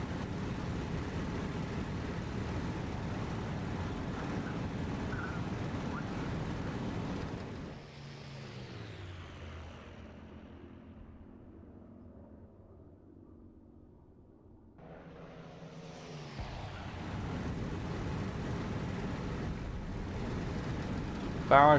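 A WWII fighter plane engine in the IL-2 Cliffs of Dover flight game roars steadily, then drops to a quieter drone for several seconds as the throttle eases, before surging back to full power.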